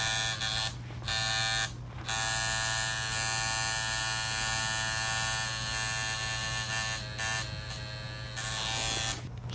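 A tattoo shader machine buzzes in steady bursts, loud and close, cutting out briefly several times between runs of its high electric drone.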